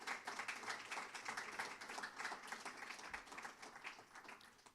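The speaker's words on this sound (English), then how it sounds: "can we have a round of applause for our candidates this evening?" Applause for candidates at a Board of Education candidate forum in a library in Calvert County, Maryland, soft scattered clapping from a modest audience, faint and fairly even throughout.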